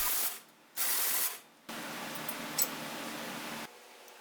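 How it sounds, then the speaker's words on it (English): An impact wrench turns a nut on a 2020 Ford F150 suspension during a lift kit install, with two short bursts of whirring and then a longer steady run, close and fairly quiet. "Same procedure, wrench and impact. And there's that nut turning."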